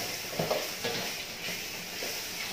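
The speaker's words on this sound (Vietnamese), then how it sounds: "Bây giờ mình sẽ xào bầu nha." Bottle gourd stir-frying in a pan, a steady, close sizzle with soft stirring scrapes throughout and no talking.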